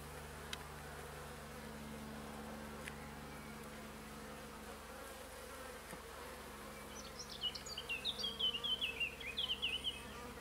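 A steady low hum fills the air, with a faint buzzing of a few honeybees at an open hive of an artificial swarm rising and drifting nearby toward the end, mostly quiet otherwise.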